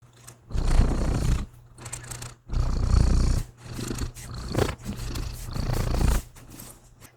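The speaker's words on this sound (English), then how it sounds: "And he began to purr," A loud, low purr from a cat sung as a lullaby, coming in long rumbling swells with brief pauses between, close and steady with no talking.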